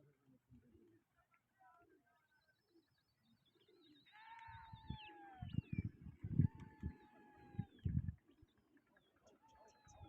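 Pigeons coo in low, repeated throaty pulses, growing louder midway, with faint bird chirps and whistles above and near-silence at the start.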